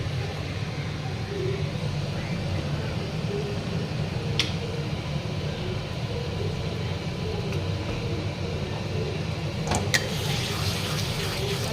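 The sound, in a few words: pouring water into mutton curry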